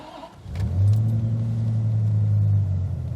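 A 2001 Dodge Viper RT/10 cranks and fires up with the key, its engine catching after a brief starter whir and settling into a loud, deep, steady idle rumble close by.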